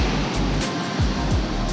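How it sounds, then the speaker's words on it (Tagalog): Strong surf rolls onto Dinahican Beach in Infanta, Quezon, a steady loud wash of breaking waves with heavy wind buffeting the microphone and low rumbling gusts throughout. "Napakalakas ng alon ng hangin, tsaka maalon siya."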